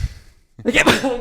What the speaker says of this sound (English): it's got to be better than your sneezing.